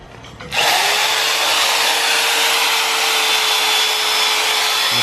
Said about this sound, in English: fire up the Chicago Electric and go to town welding all this in